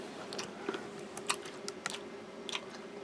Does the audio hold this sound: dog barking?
no